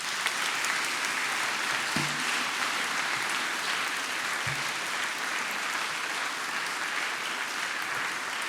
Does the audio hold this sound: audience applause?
yes